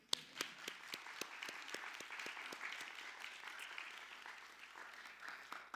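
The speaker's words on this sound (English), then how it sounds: "we will still clap for them." An audience at a college scholars cording ceremony claps steadily, with sharp individual claps standing out over a dense, even patter of applause throughout.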